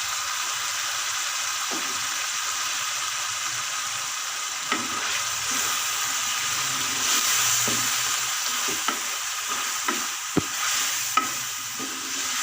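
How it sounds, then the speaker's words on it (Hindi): Spices fry and get stirred in a pan, a steady close sizzle carrying throughout with occasional scrapes and clicks of a spoon against the pan, no voices over it. "मसालों को अच्छे से अंदर पका लेते हैं।"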